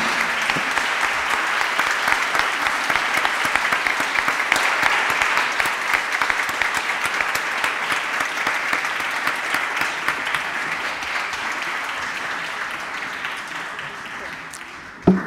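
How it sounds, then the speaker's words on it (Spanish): A hall audience at a Supreme Court seminar for International Women's Day claps steadily for a speaker, a dense continuous applause that fades slightly toward the end. "Un gran aplauso para ella."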